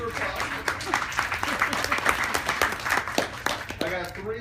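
Audience applause at a Civitan International Cardinal District installation ceremony: a steady wash of many hands clapping in a hall, moderately loud and continuous, with voices mixed in beneath it.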